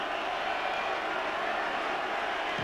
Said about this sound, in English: the crowd getting behind them